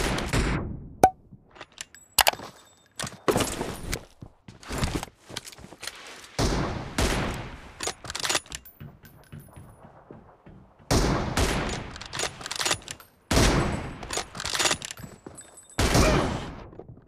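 Sniper and rifle gunfire from an M24 in a mobile shooter game, sounding as sharp, loud bursts of shots in clustered volleys separated by brief quiet gaps, close and punchy throughout.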